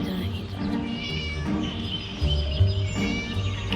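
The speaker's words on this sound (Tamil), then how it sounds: "மியாவ் மியாவ்னு சவுண்டை மட்டும்தான் கேட்குது" A cat meows repeatedly inside the Scary Teacher video game, several drawn-out calls in a row, fairly loud and close with no talking.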